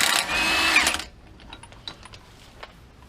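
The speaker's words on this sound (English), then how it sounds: "I'm going to go ahead and take this 36mm nut off for the" A tool spins off the 36mm axle nut on a 2004 Honda Element in a loud, dense mechanical burst of about one second. Quieter scattered clicks and small knocks follow.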